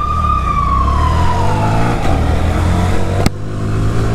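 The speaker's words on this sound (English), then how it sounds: "Let the ambulance go." An ambulance siren passes on a rainy street beside a Honda Grom motorcycle, its wailing tone sliding downward as it goes by, loud and close over engine and road rumble, with a sharp click near the end.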